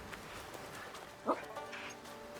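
A single short dog bark sounds from a video game, brief and moderately close, over a faint, steady background hum.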